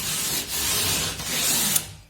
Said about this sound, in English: You pull it back, and you take it, and you surf the edges down.